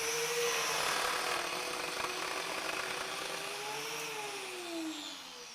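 Power carving blade cutting into wood with no extraction, throwing shavings out; a steady, loud whirring grind with a tone that dips and rises as the blade bites, running alone throughout.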